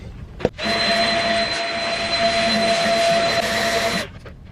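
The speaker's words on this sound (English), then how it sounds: "Okay, so I'm now going to be vacuuming my room." A vacuum cleaner cleans a room. It switches on with a thump, holds a loud, steady roar with a high whine for about three and a half seconds, then shuts off and winds down.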